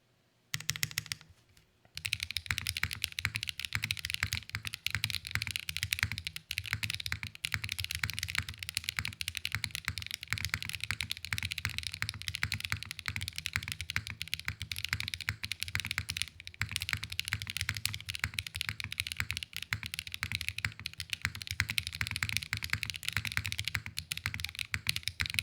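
Mechanical keyboard with Hyacinth switches on an aluminum plate, no spacebar gaskets, typed continuously at a brisk pace, dense close clacking keystrokes for the whole stretch after a short quiet start.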